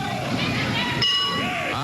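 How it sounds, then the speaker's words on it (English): A wrestling ring bell struck at an indie wrestling show, heard as a bright metallic ding ringing out under a commentator's voice. "We call for the bell"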